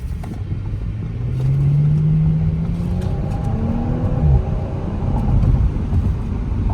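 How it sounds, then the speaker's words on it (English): A 2020 Audi S5 Sportback lets out a low exhaust burble while driving, its rumble rising and falling beneath steady road and engine noise, heard from inside the cabin with no talk. "Nice little exhaust burble."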